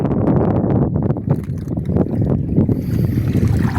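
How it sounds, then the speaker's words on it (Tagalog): Strong wind roars steadily across the microphone, a dense, blustery rush with low rumbling buffets and no voices. "sobrang lakas ng hangin ng timog"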